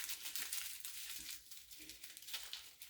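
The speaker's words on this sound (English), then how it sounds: "I'm going to take the other sheet of wax paper and I'm going to crumple it up." A sheet of wax paper being crumpled by hand, a steady close crinkling and crackling that runs the whole time with small surges, alone with no talk.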